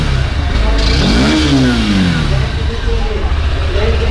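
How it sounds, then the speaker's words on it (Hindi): A Honda CB200X motorcycle engine revs up sharply with a rising then falling whine as the throttle is blipped, over a steady idle. "एग्जॉस्ट नोट थोड़ा सा थ्रॉटल देंगे।"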